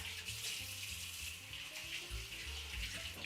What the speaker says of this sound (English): Wash hands.